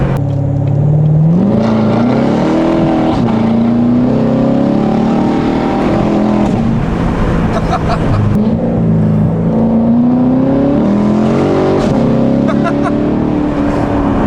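A C7 Corvette fitted with a Valvetronic Designs valved sport exhaust roars loudly up close, rising and falling through repeated revs and gear pulls, with people talking over it at times.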